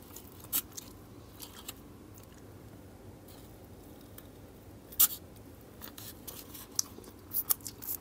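Close chewing of food into a microphone during a live stream, scattered crisp crunches and bites over a quiet background with no talking.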